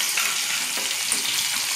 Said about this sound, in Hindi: तो पहले तेल में थोड़ा सा जो ड्राई चिली होता है वो दे दिया, उसके बाद प्याज दे दिया,